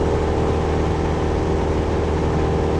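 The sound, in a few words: Cessna 172 SP engine in Aerofly FS 4 flight simulator video game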